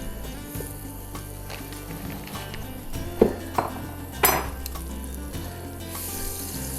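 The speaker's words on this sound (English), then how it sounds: "let's get some butter melting" Butter melting and sizzling in a pan, a soft steady fry under scattered clinks of utensils and cookware being handled nearby.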